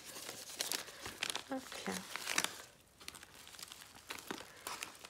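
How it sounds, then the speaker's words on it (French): Decorated paper crinkles and rustles in quick bursts as it is tucked into an envelope, close and dry, while someone talks briefly over it. "Je range ça dans ton enveloppe."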